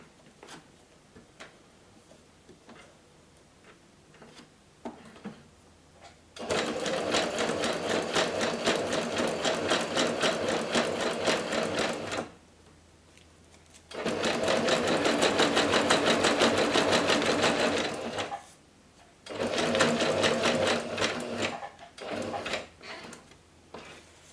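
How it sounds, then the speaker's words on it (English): A sewing machine zigzag-stitches fabric scraps in three long, steady buzzing runs with quiet gaps of light clicks and fabric handling between them, close up with no talking. "Just gonna stitch, I think. Yeah, I'll do a zigzag."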